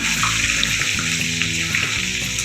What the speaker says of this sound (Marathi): तळल्यानंतर ही काढून घ्यायची आहे छान असं तळून घ्या